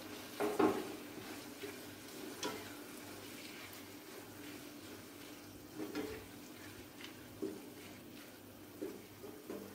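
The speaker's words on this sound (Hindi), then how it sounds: "इसको अच्छी तरह हम भून लेंगे।" Hara keema with plenty of green coriander frying in a pan, a soft continuous sizzle with occasional stirring scrapes and knocks, close and moderate in level, no voices.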